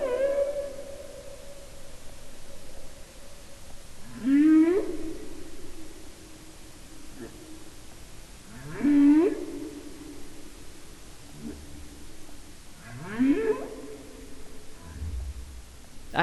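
Recorded whale song: three long, rising and falling moaning phrases spaced about four seconds apart, each swelling then fading over a low background hiss, fairly faint and distant.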